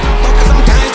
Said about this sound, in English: this is my 500 horsepower LS3